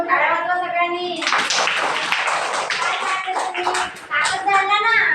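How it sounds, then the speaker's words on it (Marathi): An audience at a stage magic show claps steadily for a few seconds, dense and fairly close, while a man and children keep talking before and after the clapping. "टाळ्या वाजवा सगळ्यांनी"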